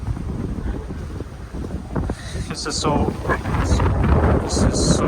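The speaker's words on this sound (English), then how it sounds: "windy right here." Strong wind in Hong Kong buffets the microphone in a continuous low roar, with gusts rising toward the end; a person speaks briefly under it.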